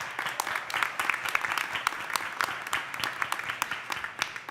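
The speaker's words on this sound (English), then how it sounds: "How about a big round of applause?" A crowd claps in a sustained round of applause, many hands at once with a few sharper claps standing out, moderately loud and steady throughout.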